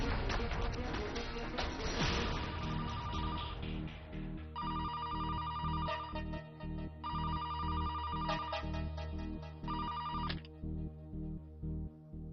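A telephone rings in repeated electronic bursts with steady pauses between them, loud and close, and no one speaks over it.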